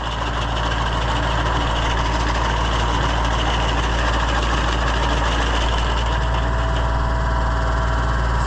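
An Oliver 356 riding mower engine runs steadily at a loud, constant idle, a low continuous drone with no breaks.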